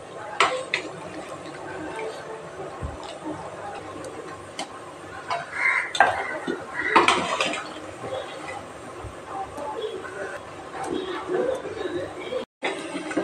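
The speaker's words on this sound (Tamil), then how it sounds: "இப்போ நான் சிக்கன் எல்லாம் தனியாக எடுத்துட போகிறேன் ஃப்ரை பண்ணுறதுக்கு." Metal utensils clatter and clink against a pot as cooked chicken pieces are lifted out of a curry for frying, with scattered scrapes and knocks through a kitchen setting.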